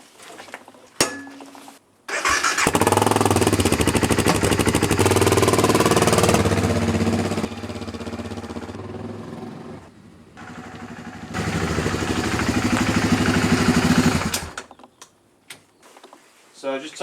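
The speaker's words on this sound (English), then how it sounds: "So I've just taken the bike for a quick spin" A BMW F650GS Dakar single-cylinder motorcycle runs in a loud, sustained burst with a low droning engine note and rushing noise, dipping midway, then cutting back to quiet near the end.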